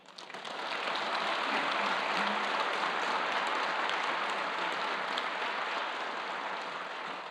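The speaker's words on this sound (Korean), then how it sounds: "박수로 격려해 주시기 바랍니다." A church congregation at an Easter Sunday service applauds visiting missionaries, the clapping swelling within the first second into a full, even roar, then holding steady and easing slightly toward the end.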